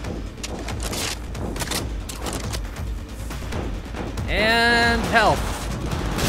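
Bursts of gunfire in Cyberpunk 2077 rattle through a firefight, with shouted voices over the shots and a whining mechanical tone rising near the end.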